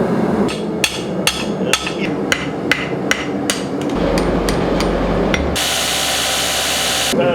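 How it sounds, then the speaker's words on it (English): Blacksmith hammering steel while forging a marking knife: a steady series of sharp metallic hammer blows, close and loud, followed near the end by a sustained harsh grinding or power-tool roar. "today we're going to be forging, honing, hardening, and tempering a marking knife"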